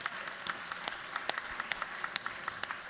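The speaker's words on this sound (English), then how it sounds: "So give yourselves a round of applause." Applause from a crowd gathered in the Georgia House chamber, a soft, steady wash of clapping with distinct individual hand claps standing out at an irregular rhythm, fairly distant and with no talk over it.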